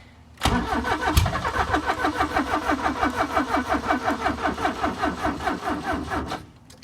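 A barn-find classic car on a weak battery cranks close and loud after a sharp start, its starter churning in a steady, labouring rhythm for about six seconds without catching, then it stops.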